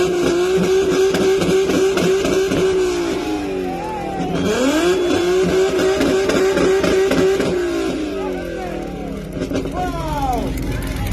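Twin-turbo Nissan 350Z revving hard in a 2-step battle at a car club meet, loud rapid limiter pops and crackling engine bursts that rise and fall repeatedly, with a crowd shouting underneath.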